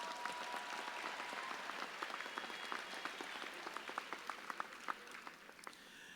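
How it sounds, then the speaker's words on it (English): Audience applause at a graduation ceremony honoring donors, a faint, distant crowd clapping with scattered sharper individual claps emerging toward the end. "Let's give our donors of the Kalamazoo Promise a round of applause"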